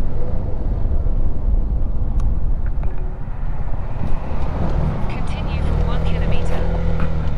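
A motorcycle climbs a rough dirt road toward a hilltop in Nueva Vizcaya, its engine a steady close rumble mixed with wind buffeting the microphone, continuous for the whole stretch.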